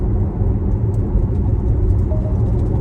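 A car cruises at 85 km/h with lane-keeping assist engaged, giving a loud, steady low rumble of engine and road noise inside the cabin, with a faint brief chime partway through.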